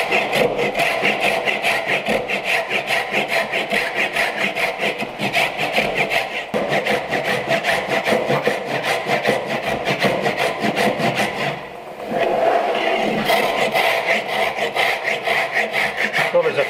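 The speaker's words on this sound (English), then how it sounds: "now I move on to the rip tooth saw" A rip tooth hand saw cuts wood for a bridle joint in fast, even back-and-forth strokes, close and loud, with one brief pause before the rhythm resumes.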